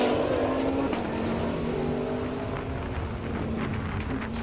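Race cars circulating around Dezzi Raceway, among them McLarens, Lamborghinis, a Porsche and a BMW Z4, a constant heavy engine roar with shifting, gliding pitch as the cars pass, with no talk.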